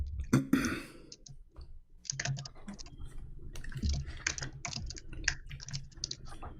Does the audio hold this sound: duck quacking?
no